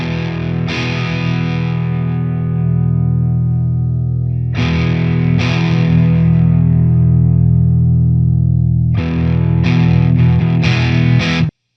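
An electric guitar driven through a Marshall DSL overdrive pedal with its deep switch engaged gives loud, thick distorted chords with a heavy low end, strummed and left ringing, with several sharp re-attacks near the end.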